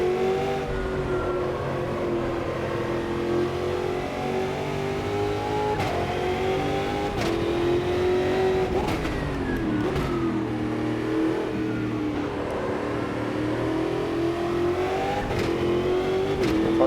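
Race car on the Interlagos circuit, a Stock Car or Formula 1 machine, holds a loud, close, continuous engine roar whose pitch climbs and dips as it accelerates, shifts and brakes through corners, with no talking.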